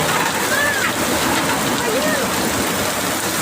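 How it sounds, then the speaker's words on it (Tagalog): Fast-flowing floodwater rushes during heavy rain, a dense, steady wash of water noise close by, with faint voices and a passing engine hum blending in. "Ang bilis ng tubig. Ayaw pa tumigil ang ulan."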